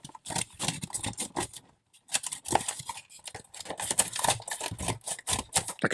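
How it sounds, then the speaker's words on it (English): Scissors snip and cut through the plastic and cardboard of a GreenLight diecast model car package, a series of close crisp clicks and crinkling rustles with a short pause partway through. "We need a scissors to open up GreenLight."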